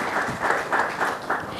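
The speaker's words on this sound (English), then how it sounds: "a big round of applause" Audience applause closes a session at a galvanizing industry conference, a brief burst of dense clapping swelling in a few waves across the hall.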